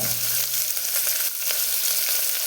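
Onions and tomatoes with a pinch of asafoetida sauté in a pan for a Tamil cabbage kootu, giving a steady, close hiss of frying that runs unbroken and fairly loud throughout, with no talking.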